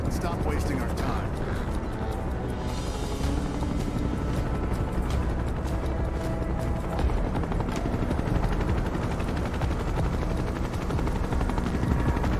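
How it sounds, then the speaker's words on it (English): A loud helicopter hovers overhead in Final Fantasy 7 Rebirth, its dense rotor rumble running continuously through the scene alongside bursts of gunfire-like crackle, with voices speaking over it. "I forgot that this loud helicopter is still above my head right now"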